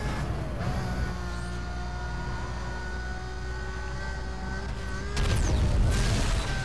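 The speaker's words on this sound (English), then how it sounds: "Sorry, I just went through an explosion." A blast from an explosion while racing in Need for Speed Most Wanted, a loud booming burst that breaks in after several seconds of a steady car engine drone and stands alone, with no talking.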